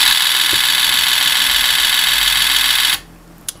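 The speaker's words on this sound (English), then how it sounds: "We'll switch the first relay on and our motor rotates" A small electric motor, switched on through a relay by a Raspberry Pi, whines steadily with a bright, high-pitched buzz. It cuts out sharply near the end, and a single soft click follows.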